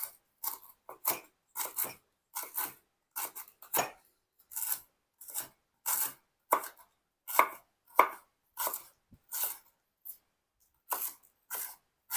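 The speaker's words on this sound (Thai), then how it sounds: "หั่นให้เข้าละเอียดอย่างนี้เลยนะครับ" A knife finely chops lemongrass quickly and steadily on a cutting board, a run of crisp, close taps in short bursts with brief pauses and no talking.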